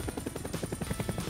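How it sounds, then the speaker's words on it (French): A golden helicopter's rotor gives a steady, fast chopping thud, near and moderately loud, running alone throughout without any voices. "Maintenant j'ai un hélicoptère doré."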